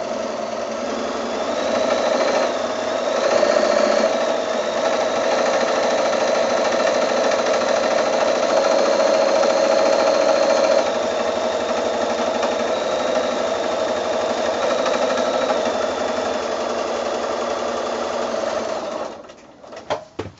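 A sewing machine runs a long, steady stitching burst along a quilt seam, a loud, close mechanical whir that holds for most of the stretch before it slows and stops with a few final clicks.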